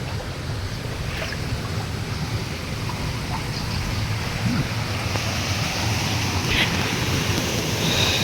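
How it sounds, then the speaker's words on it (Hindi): Water pours and rushes beneath a bridge where a colony of swallows nests, making a steady, loud broadband roar that runs unbroken throughout with no clear pauses. "इस साइड तो पानी तला गिरदा पिया"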